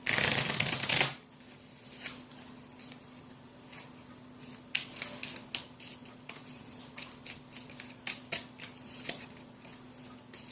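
Cards for a board game are riffle-shuffled up close in one loud, dense burst, then squared and handled with scattered soft taps and shuffling clicks.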